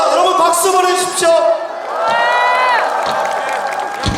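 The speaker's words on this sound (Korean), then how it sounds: "여러분 박수 보내주십시오" A rally crowd at a candlelight protest cheers loudly and steadily, with whoops and raised voices rising and falling over the full stretch, dense and close throughout with no clear break.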